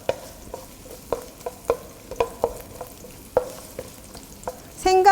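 Garlic stir-frying over low heat for a seafood nurungji soup, with a steady soft sizzle broken by repeated sharp utensil clicks and scrapes against the pan, and a brief rattling burst near the end.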